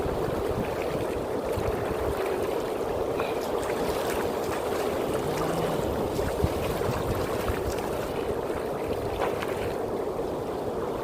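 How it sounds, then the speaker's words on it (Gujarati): Fast-flowing stream near Lachhanpura in Savli, Vadodara, its water rushing in a steady, dense broadband roar that holds level and close throughout, with no voices. "અહીંયા આ રીતનું ઝરણું વહી રહ્યું છે"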